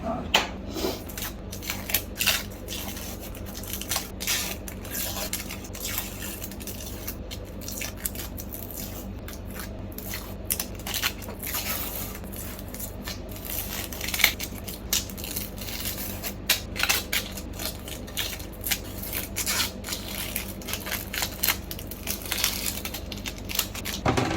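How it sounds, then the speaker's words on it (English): A knife slices through an onion in a long, steady run of crisp, close crunching cuts, with scattered sharper clicks and a low background hum. No one speaks. "So I need to obviously peel the layers of the onion and then chop said onion."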